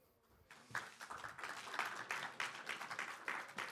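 Audience applause at the end of a conference talk on building a large OB truck with SMPTE ST 2110, a modest, fairly distant round of clapping that starts after a short pause and stays steady.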